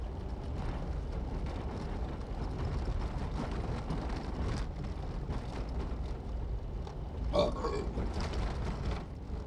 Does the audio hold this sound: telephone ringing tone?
no